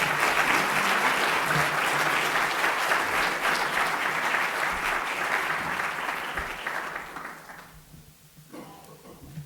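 A lecture audience breaks into loud, dense applause after a talk on professionalism, sustained for several seconds before tapering off and thinning out toward the end.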